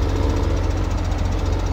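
Massey Ferguson 7180 tractor engine in Farming Simulator 17, a steady rumbling drone with a fast knocking pulse, loud and continuous throughout.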